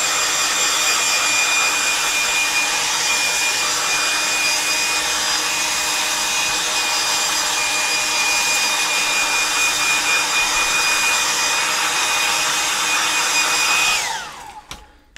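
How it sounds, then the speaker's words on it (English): A hair dryer blows steadily with a loud, constant whoosh and a faint high whine, then switches off near the end and winds down. "I'm just going to whoosh this with my hairdryer."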